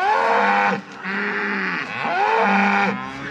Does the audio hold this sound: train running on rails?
no